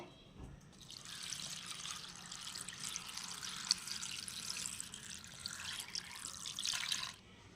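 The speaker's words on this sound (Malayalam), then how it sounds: "ഈ ആനച്ചവടി ഒന്ന് കഴുകി വൃത്തിയാക്കി എടുക്കാവേ" Anachuvadi leaves are washed in running water, with a continuous close splashing and trickling like a tap filling a sink that stops abruptly at the end.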